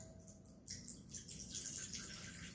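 Vodka glugs out of a bottle in a steady, close splashing pour lasting a couple of seconds, with no talking.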